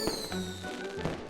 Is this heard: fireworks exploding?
yes